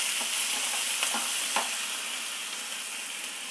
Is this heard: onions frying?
yes